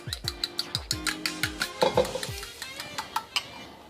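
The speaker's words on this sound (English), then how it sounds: "Went ahead, cracked my eggs. Let's go ahead and just, you know, lightly scramble them." Eggs being lightly whisked or scrambled in a pan or bowl, with a quick rhythmic series of sharp utensil taps and clinks, close and fairly loud, and a brief louder scrape in the middle.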